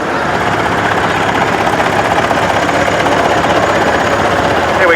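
A 1950 Massey Ferguson tractor engine running at a tractor fest at Newby Hall, Ripon, a loud, steady, rapid mechanical rattle and chug close by with no break.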